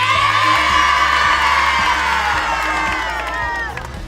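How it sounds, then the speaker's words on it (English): A large crowd of kids cheers, whoops and shouts loudly and continuously, close and energetic, egging others on with high excited voices throughout. "A large crowd of kids gathers and eggs them on whilst Jordan takes their photo"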